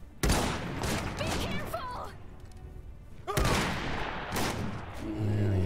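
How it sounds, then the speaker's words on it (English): Rapid gunfire bursts and booms in the WWI-era strategy game Iron Harvest, loud and dense in two heavy volleys with whooshing effects, mixed with game music and sound effects. "Come on, girl, shoot him."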